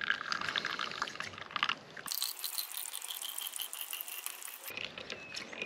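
Coffee streams steadily from a piston coffee maker into a cup, a continuous close trickle and hiss that changes tone partway through as the flow settles.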